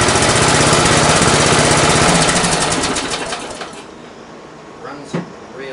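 A Craftsman 42-inch riding lawn tractor engine runs loud and close with a rapid chugging rhythm, then winds down and fades, followed by a couple of brief knocks and a voice near the end.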